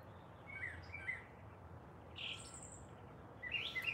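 Several short bird chirps come and go over a soft outdoor background, with brief bright calls scattered across the few seconds and a busier burst near the end.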